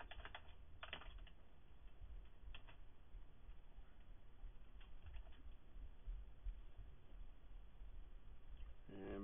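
A username is typed on a computer keyboard during a Fedora 12 Linux install, heard as faint, scattered key taps in short bursts over a steady background hiss.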